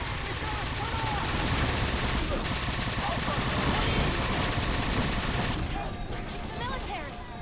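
Rapid gunfire from a weapon in the video game Halo 4, dense bursts of automatic shots running almost nonstop at steady loudness, with a player talking over the shooting.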